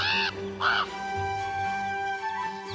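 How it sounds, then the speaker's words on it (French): A crow gives two loud, harsh caws in close succession over steady background music in an animated animal cartoon set on the North American plains. "Parmi les oiseaux qui peuplent les grandes plaines d'Amérique du Nord, il y a le corbeau."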